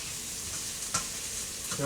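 Leek and rough-chopped garlic sizzling in a pan, a soft, steady frying hiss with a stirring scrape partway through and another near the end.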